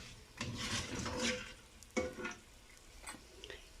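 Maqrout pastry dropped into hot honey straight from the frying pan, giving soft crackling sizzles and bubbling bursts that swell and fade at close range.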